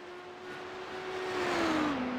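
Audi GT3 race car on the Belle Isle street course in Detroit, a steady engine tone held over broadband road and wind noise that rises in loudness, then drops in pitch as the car shifts gears.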